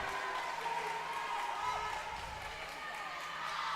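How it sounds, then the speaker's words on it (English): Spectators in a high school gym roar and cheer steadily at a volleyball match, a broad, sustained crowd wash with overlapping voices and no single speaker clearly on top. "as the crowd goes wild"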